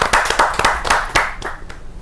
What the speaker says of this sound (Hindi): जोरदार ताली के साथ हम स्वागत करते हैं